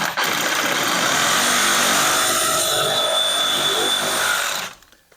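A power saw, likely a reciprocating saw, cuts through soft copper pipe during kitchen island plumbing work, a steady loud buzzing grind lasting about four and a half seconds before stopping abruptly.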